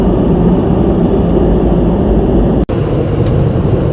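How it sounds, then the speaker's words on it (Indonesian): An underground metro train in Korea runs loud and steady, a dense rumble and roar filling the whole span with one sharp brief dropout near the end, no voices over it. "Mungkin karena kereta ini kan jalurnya underground ya, jadi mau nggak mau berisik."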